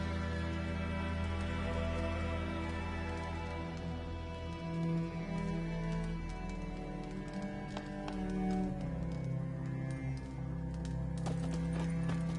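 Horse galloping in The Witcher 3, a steady rhythmic clip-clop of hooves over a continuous in-game music and ambience bed, fairly close and even in level throughout.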